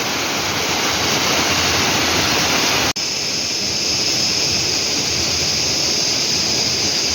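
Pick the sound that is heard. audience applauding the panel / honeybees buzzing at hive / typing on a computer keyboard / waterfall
waterfall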